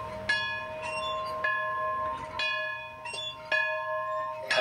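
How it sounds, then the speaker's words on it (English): An heirloom bell from a Quarryville homestead, mounted on a garden post, rings out in several clear metallic strikes, each with a long shimmering decay, struck at irregular intervals of about a second. "It rings a bell on top."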